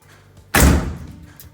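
The door of a 1935 Chevrolet swings shut with a single loud, close slam and thud, then quickly fades to quiet.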